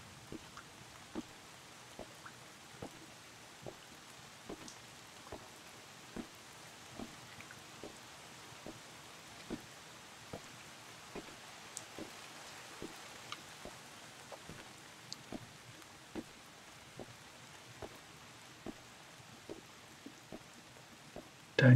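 Soft, steady rain hisses in the Bottle Pilgrim video game during a walk, faint and even, with light ticking taps recurring at a regular pace throughout.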